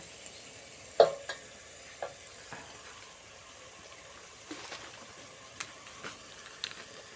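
Thai curry paste is stir-fried with coconut milk in a pan, giving a faint, steady sizzle broken by a few sharp taps and scrapes of the spatula.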